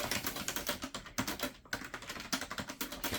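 Fingers type quickly on a colourful computer keyboard, close, crisp key clicks in an uneven rapid patter with a few brief pauses, no voices.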